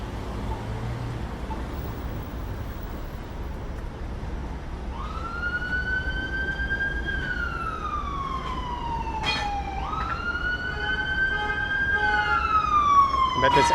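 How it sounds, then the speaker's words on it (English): An ambulance siren in downtown Toronto traffic wails in from the middle of a steady roar of city traffic. Its tone sweeps slowly down, then jumps back up and falls again, growing louder as it nears. "I bet this ambulance is making a left here and going to the hospital."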